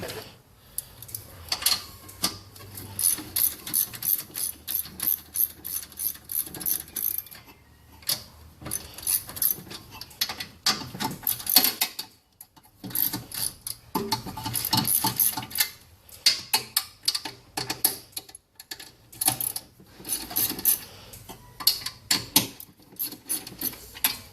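Socket wrench removing six nuts from a metal plate on a Ford Ranger, rapid ratcheting ticks in repeated bursts with brief pauses, close and loud, no speech.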